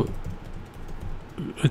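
Fingers tap on a computer keyboard while an email is composed, a close, quiet run of soft irregular keystrokes with a slightly louder clack near the end.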